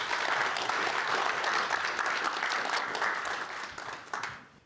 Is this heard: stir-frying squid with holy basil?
no